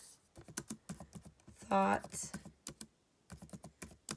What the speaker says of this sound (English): I'm going to start typing the problem. So, sorry, I'm typing with one hand, so it's very slow.